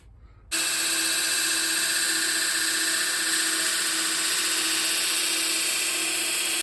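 A strap-on surface grinder for knifemaking runs a 40 grit belt across a knife blade in a very light cut, giving a loud, steady, high-pitched whir and belt hiss that starts abruptly and holds unbroken to the end.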